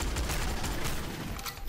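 Gunfire in the shooter game GoldenEye: Source, a rapid dense volley of shots that fills the clip, strongest at first and tapering slightly toward the end.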